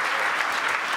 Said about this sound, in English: They're really clappy, by the way.